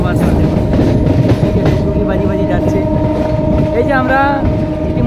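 A train rumbles steadily at Sheoraphuli railway station with a constant mechanical roar, while faint voices of pilgrims and a few brief high squeals rise over it.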